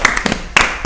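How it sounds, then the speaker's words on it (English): A handful of quick hand claps, roughly seven sharp slaps in two short bursts, close and fairly loud, heard during a fashion panel discussion. "I'm going to give that a little clap."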